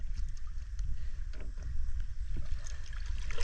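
A small boat moving on water, low rumbling motor or wind noise with splashes and lapping water, close and steady.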